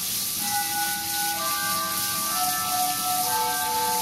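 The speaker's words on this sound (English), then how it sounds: "and there's 7 o'clock chimes." A village public-address chime plays its seven o'clock melody across rural Japan, sustained bell-like tones sounding one after another from a distance over a steady hiss of outdoor ambience.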